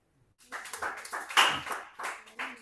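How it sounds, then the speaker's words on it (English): Audience clapping at a training session, a scattered burst of hand claps starting abruptly and continuing unevenly at moderate loudness, fairly close, with no talk over it. "Please clap for them."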